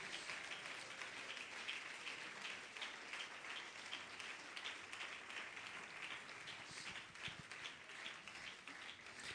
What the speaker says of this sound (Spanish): Dele un aplauso a su Señor en esta tarde.